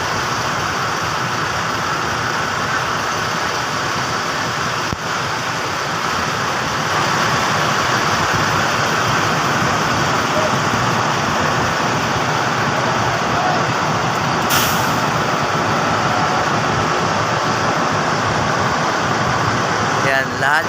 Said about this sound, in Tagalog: Itong mga bus na nakaparada rito sa lugar na ito.